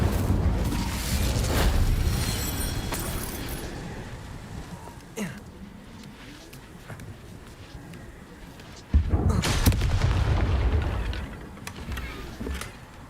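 Hogwarts Legacy Incendio fire spell casts as a burst of whooshing flame with a deep rumbling boom. It sounds twice, once at the start and again later, loud and close, with quieter rustling in between.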